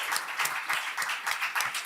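A small live audience claps steadily and fairly close, with irregular overlapping hand claps running through the short burst.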